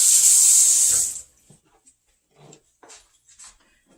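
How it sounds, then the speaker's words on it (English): Hands washed under a running kitchen tap while preparing homemade rice pudding: a loud, steady gush of water for about a second that then shuts off, followed by faint clinks and quiet handling sounds. "Washing my hands."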